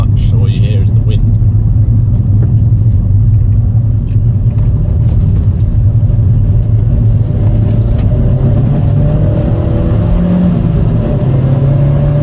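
Vauxhall Corsa VXR driving at night, a steady low engine and road rumble with a constant wash of wind noise, loud and continuous throughout, with the engine note rising slightly toward the end.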